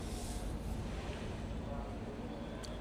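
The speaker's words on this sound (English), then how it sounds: "the wind is just beating everything here" Strong, steady wind at an Irish drift track during practice, roaring and buffeting a nearby microphone with a continuous broadband rush and no let-up.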